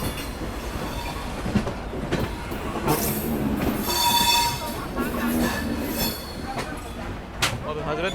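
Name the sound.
Rajdhani Express train arriving at Hazrat Nizamuddin station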